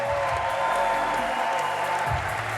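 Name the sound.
audience applause for trampoline athletes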